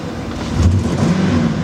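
A 2005 Ford F-250 Super Duty truck engine misfiring as it is revved, with a loud, close, low rumble that swells and sputters unevenly for under two seconds.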